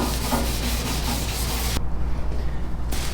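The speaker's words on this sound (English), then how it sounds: "we finished up sanding with our 500 grit" Wet sanding a car deck lid by hand with 500 grit sandpaper, a steady close rubbing scrape that runs continuously, then drops to a duller, quieter rub for a moment before the brighter stroke returns.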